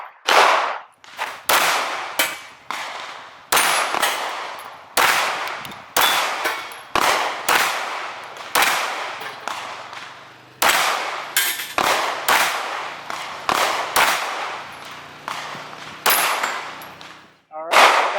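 Repeated shots from a SIG Sauer P320 XFive Legion pistol ring off steel targets, each sharp report followed by a metallic clang and a short ringing decay, fired in irregular bursts that are loud and close.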